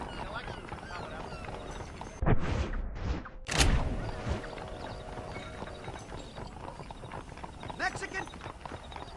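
Horse hooves clip-clopping in a western video game setting, a steady trotting rhythm under a voice, with a brief louder burst of movement midway.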